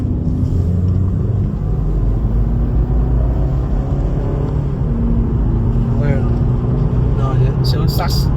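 A Range Rover pulls away in drive, its engine rumble steady and close throughout, with a faint rising whine near the end.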